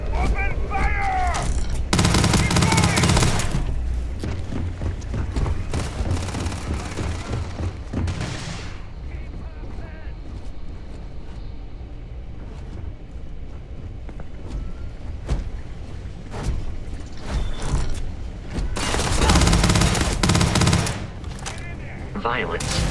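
Heavy gunfire erupts in a video game rooftop battle, dense automatic bursts and booming blasts loud at the start and again near the end, with a calmer stretch of scattered shots and voices in between.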